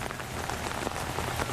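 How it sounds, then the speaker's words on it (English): Steady rain pours down outdoors in North Chattanooga on Christmas, a dense, even hiss of drops hitting the ground that runs unbroken and fairly close, with no voices over it. "it's raining out here"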